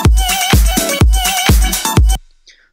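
Chopped sample-based music with punchy drums, heavy booming kicks pumping through sidechain on a looping sample, loud and rhythmic before cutting abruptly to near silence.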